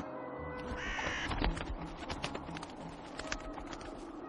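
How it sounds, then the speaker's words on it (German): Crows caw in a quick burst near the start as birds are scared off in The Whispered World video game, followed by scattered clattering and fluttering sounds, with no talking. "Du hast die Vögel verscheucht."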